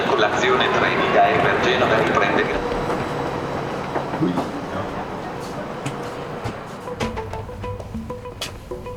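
Steady rumbling of a sleeper train rolling on rails, with rhythmic clatter and scattered clicks, while people talk nearby.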